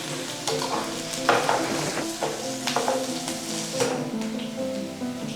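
Sliced onions frying in a pan for biryani topping, with continuous sizzling, crackling pops and stirring scrapes, loud and close, no talk.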